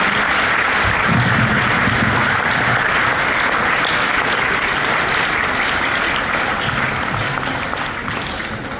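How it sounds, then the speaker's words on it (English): A school awards ceremony audience gives a loud, sustained round of applause for the awardees, dense clapping from many hands filling the hall and tapering slightly at the end. "a big round of applause I want for all the awardees who got the award today"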